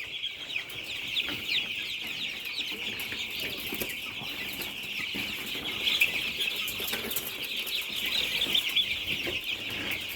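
Steady high-pitched cheeping of many young Lohmann Brown chicks, about eleven days old, close and continuous, with occasional soft rustling and fluttering.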